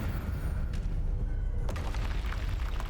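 A Confringo spell explosion in Hogwarts Legacy bursts as a sudden heavy boom amid constant game ambience, preceded by a smaller thump, with no voices.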